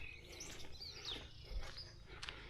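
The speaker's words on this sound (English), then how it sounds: "you have so many birds that I can hear them make some calls here." Faint, scattered high chirps and short whistled calls come from birds at a distance over a quiet outdoor background in Kigogoini village, Kenya.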